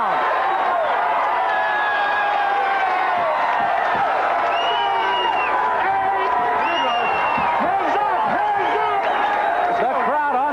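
A 1983 boxing arena crowd roars and cheers after a knockdown, a dense, loud, sustained wall of voices and whoops, with a commentator talking over it.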